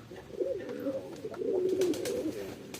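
Pigeons cooing close by inside a coop, soft repeated throaty coos with a few faint chirps and light rustling in the background.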